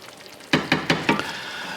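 Sloppy joe sauce cooking on a stovetop that has been turned down, giving a steady close bubbling sizzle broken by four quick stirring or spoon clatters in a row.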